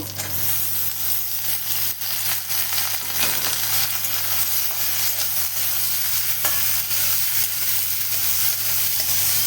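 Chopped bottle gourd frying in a spice masala with green chillies in a pan, loud continuous sizzle with a steady low hum underneath and occasional stirring scrapes, close up with no talking.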